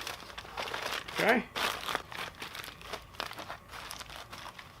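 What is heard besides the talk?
aluminum foil being folded and crinkled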